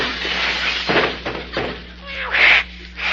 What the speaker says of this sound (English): Clem, is there any way of stopping that cat out there on the fence?